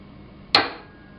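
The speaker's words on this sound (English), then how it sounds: "for my snare drum, I'm just going to hit the side of the table." A single sharp knock of a hand on the side of a wooden table, fairly close and crisp, with a short ring-off that fades quickly into quiet.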